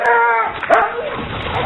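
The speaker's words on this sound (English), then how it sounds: "we'll bring out the dogs." Dogs bark and yip in a short, loud burst in a television advert, with a whimpering, yelping quality over a clipped, bright mix.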